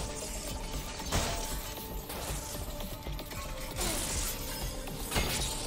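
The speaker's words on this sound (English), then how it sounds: "Just love the sound of smashing glass, really." Glass shatters in the sci-fi shooter game Selaco, with several bright crashing smashes spread over a few seconds amid steady mechanical background noise.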